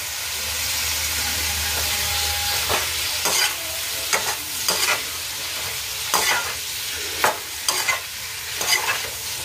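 Potatoes and dried anchovies (dilis) fry in a pan with a steady sizzling hiss, broken by repeated scraping stirs at irregular intervals, close and fairly loud.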